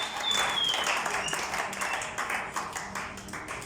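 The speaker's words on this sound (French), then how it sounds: "Est-ce qu'on peut acclamer pour la gloire du Seigneur?" A church congregation applauds during a Sunday sermon, dense clapping rising quickly and then thinning and fading over a few seconds.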